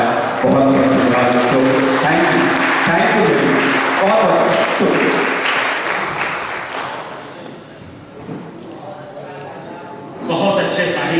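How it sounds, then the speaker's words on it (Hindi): Audience applause at an Indian kavi sammelan poetry recital, dense sustained clapping that fills the hall, easing off briefly near the end before swelling again, with voices mixed in. "एक बार जोरदार तालियां मित्रों"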